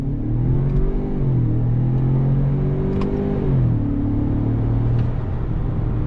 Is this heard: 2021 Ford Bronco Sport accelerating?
yes